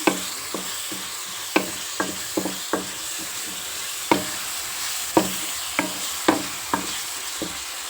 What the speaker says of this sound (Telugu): మనం ఉల్లిపాయ పేస్ట్లో మనం ఇవి కూడా వేసి కొంచెం సేపు బాగా బాయిల్ చేద్దాం